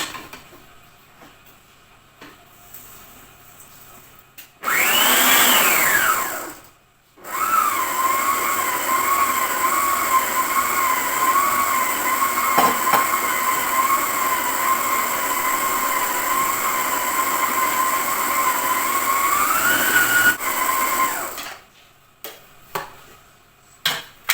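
A stand mixer creaming butter whirs steadily at high speed with a motor hum, briefly louder at the start, then stops after about fifteen seconds.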